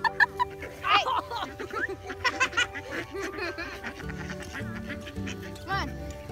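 Wild ducks quacking close by in a series of nasal calls, mixed with people talking and laughing nearby.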